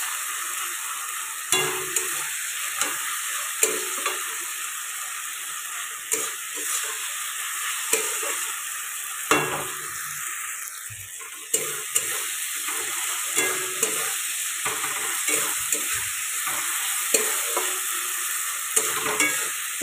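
A spoon scrapes and stirs onion and tomato masala simmering in a little oil over low heat for a spicy chicken curry, making repeated rhythmic scrapes over a soft, steady sizzle, with a thin whine behind it.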